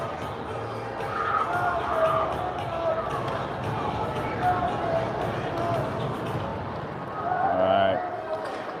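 A noisy crowd at a high school hockey game makes a steady wash of babble and cheering, with a commentator's voice running over it and a brief swell of noise near the end.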